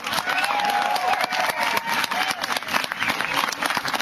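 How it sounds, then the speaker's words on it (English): A crowd at an outdoor Boston Tea Party rally gives dense applause mixed with cheering and whoops, continuous and fairly distant. "Let's have a round of applause for all the hard work that went into this."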